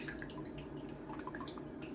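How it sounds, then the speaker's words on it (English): Water draining out of a watered orchid pot, faint close dripping and light trickling patter, brief and quiet with no voices. "I did the pour through once, see the water falling out. Let it drain a bit."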